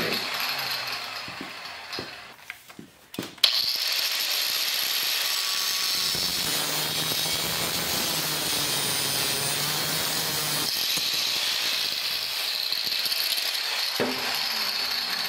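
A power tool cuts metal pieces off a steel hinge plate for an antenna tower swivel, a loud sustained grinding whine after a few short knocks, close and alone.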